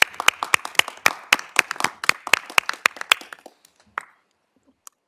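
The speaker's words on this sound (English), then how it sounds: "I think we can all clap for that" An audience at a school district board of education meeting claps together in a brisk burst of sharp hand claps that thins out to a few scattered claps and fades into silence, with no talking over it.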